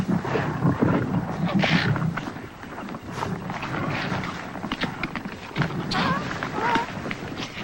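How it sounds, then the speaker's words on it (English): Lions roaring at night in the wild, deep growling roars and snarls amid the chaos of a nighttime hunt, loud and continuous with scuffling and movement beneath. "As always, the lions are the lords of chaos."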